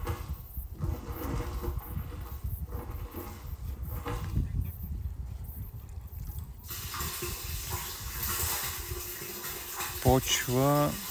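Dirty water gushing and splashing continuously from a truck-mounted pump outlet, fairly loud and steady, with a voice speaking near the end.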